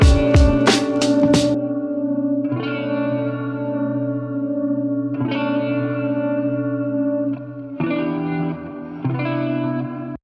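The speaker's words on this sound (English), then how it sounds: "This is a real guitar recorded with my amp." An electric guitar plays a few sustained chords through an amp, ringing out with heavy reverb and echo between each strum.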